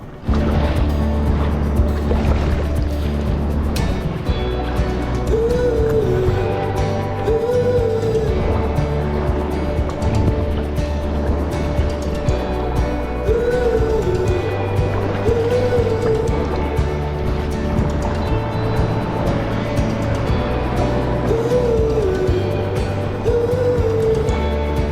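Waves wash and break steadily along a northerly facing stretch of Scottish coast during a sea kayaking expedition, loud and close under a constant rumble of wind and water.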